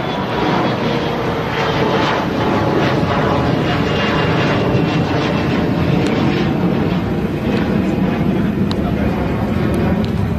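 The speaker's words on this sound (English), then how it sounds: "you probably are hearing an airplane flying overhead" An airplane flies over a minor league cricket ground, producing a loud, steady engine drone that lasts the whole stretch. Faint crowd or ambient sounds sit beneath it.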